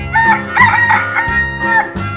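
A rooster crows loudly and close, giving a long drawn-out cock-a-doodle-doo with rising and falling calls over a steady background hum.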